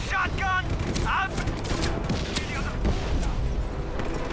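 Shotgun blasts and chaotic gunfire from a Just Cause 3 firefight, dense overlapping bangs and booms filling the mix with game effects throughout.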